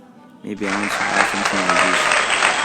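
Applause sound effect from Plotagon, a sudden burst of dense clapping that starts half a second in and holds loud and steady to the end, with a voice briefly over it.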